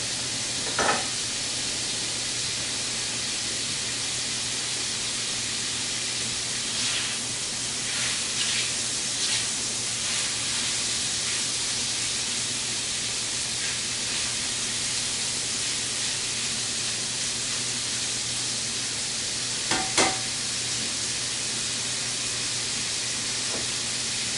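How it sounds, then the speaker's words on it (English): Shrimp sizzling in a pan while cooking for a Cajun pasta, a steady soft frying hiss with occasional faint clicks and stirring touches, no talking. "Letting the shrimp sit there and cook for a second."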